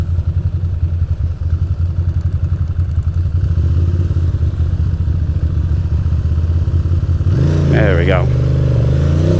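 A Ducati motorcycle rides through Manhattan streets, its engine burbling loud and close with a steady rumble, then revving up sharply near the end while someone speaks briefly over it.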